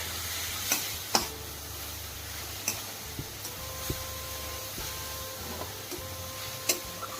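Momo filling with black pepper and soy sauce is stirred in a hot pan, a soft steady sizzle broken by scattered spoon clicks against the metal, with no voices.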